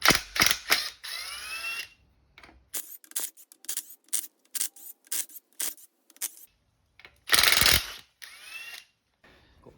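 A hand ratchet clicks rapidly in short bursts while backing out 13 mm cover bolts on a Ford 8.8 rear axle, close and crisp, with brief pauses and a few louder scraping passes between runs.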